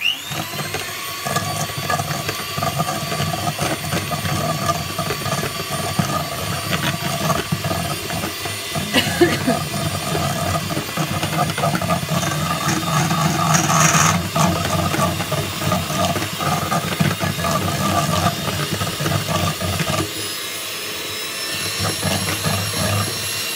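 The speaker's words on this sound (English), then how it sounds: "And then we're going to give it a whiz up." An electric mixer whizzing oat bran cake batter with a free-range egg, a loud, steady motor whine with churning texture, running continuously close up before cutting out near the end.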